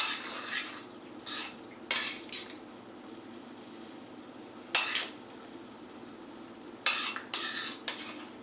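Simmered tomato sauce scooped onto plates, with a few separate clinks and scrapes of a spoon against dishes among quiet stretches.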